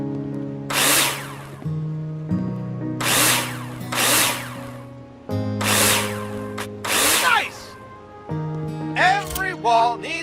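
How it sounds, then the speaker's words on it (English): A power drill drives screws into plasterboard in Builder Simulator. It whirs in repeated loud bursts, four or five short runs separated by pauses, with a steady background hum beneath. "Take your drill out and screw them in."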